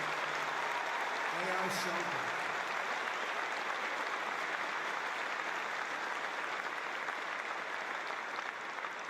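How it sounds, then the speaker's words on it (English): A large crowd at a US Air Force base in Qatar applauds the Qatar Army and Armed Forces, sustained clapping that carries through the clip while someone speaks briefly over it. "Let's give them a really special hand."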